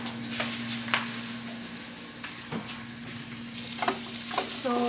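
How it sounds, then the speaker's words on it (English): Steady sizzling of onion and garlic frying in a pan, with occasional scraping stirs and light clinks, close and moderately quiet. "here I'm frying the onion and garlic"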